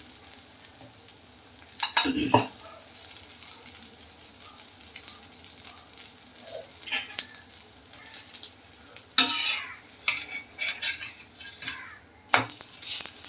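Thalipeeth made from bhagar frying in ghee on a pan gives a faint, low sizzle, broken by a few short scraping and clattering bursts near the start, middle and end, with no voices.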